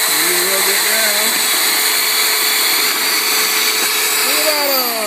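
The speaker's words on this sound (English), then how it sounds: "if you're drilling, get 5 at a time. 7 at a time. And just drill through it." Power drill boring holes through a stack of five to seven plastic cups, a loud continuous whine with shifting pitch as the bit pushes down, steady throughout and close.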